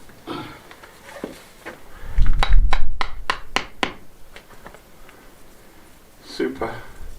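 Hammer blows during renovation of an old Spanish farmhouse, a quick run of about six sharp, close knocks, with someone talking before and around them.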